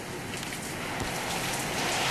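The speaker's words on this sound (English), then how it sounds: "it is pouring down rain" Dense, continuous hiss of heavy rain pouring down during Hurricane Earl in 2010, steady and enveloping with no pauses.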